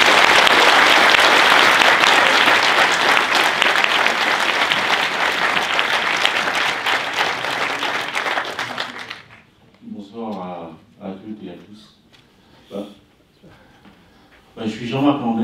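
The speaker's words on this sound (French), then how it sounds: "Je vous demande de l'applaudir." An audience at a conference gives loud, dense applause that goes on for several seconds, then thins out and stops, leaving someone speaking in French with a few scattered claps.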